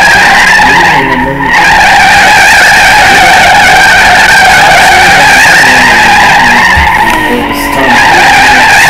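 A Bugatti Veyron and a Lamborghini Gallardo doing a burnout drift give a loud, sustained tire squeal that holds without a break, briefly dipping twice, over a rough engine roar.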